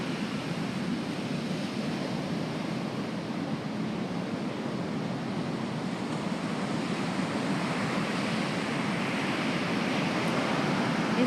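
Ocean surf breaking on First Beach, a steady, loud wash of crashing waves with constant roaring spray and some wind noise, continuing unbroken throughout with no voices.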